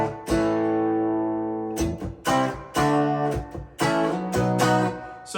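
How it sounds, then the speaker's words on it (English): Clean Fender Bullet Telecaster running into a Vox AC30 amp emulation, playing ringing chords and picked notes in short phrases with brief gaps, bright and fairly loud. "the lead guitar is the Bullet Telecaster, and it's going into Logic through their emulation of a Vox AC30."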